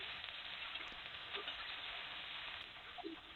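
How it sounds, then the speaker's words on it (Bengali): Ginger-garlic paste frying with lightly browned onions in hot oil over medium heat, a steady soft sizzle running throughout with a few faint stirring clicks. "1 চামচ পরিমাণ আদা রসুন বাটা দিয়ে ভাজা ভাজি করে নিলাম।"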